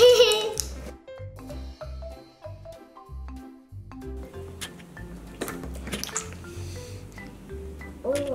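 Blue water slime squished and stretched by hand, repeated wet squelches and small pops close up, with a low musical tone running underneath.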